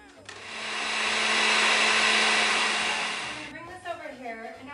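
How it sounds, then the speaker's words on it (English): A countertop blender blending soaked chilies with salt, starting up and whirring loudly in a steady high roar for about three seconds before winding down. "And then I'm just gonna turn my blender on."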